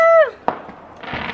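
A TNT Carnival firework at a Bonfire Night display goes off with a sharp bang and crackling burst after a whistling rise, loud and close, with no talk over it.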